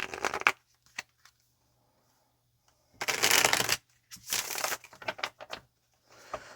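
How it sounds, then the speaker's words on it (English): Bursts of tarot cards being shuffled, a brief riffle at the start, then a long crisp riffle and several quicker shuffles with light taps, close and clear. "let's get one more shuffle"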